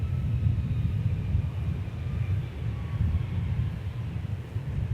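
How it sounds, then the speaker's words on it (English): American Airlines Airbus A321neo landing at DFW airport, heard as a steady low jet rumble at a distance with wind buffeting, no talk. "we're going to watch Flight 1890 coming in, American Airlines. It'll be an Airbus A321 Neo."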